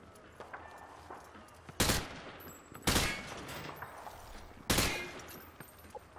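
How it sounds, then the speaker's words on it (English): Three loud bursts of gunfire from a weapon shot at targets in Call of Duty Modern Warfare 2, spaced about a second apart, each a sharp crack with a short decaying tail over quiet background. "Grab that weapon off the table and fire at the targets behind you."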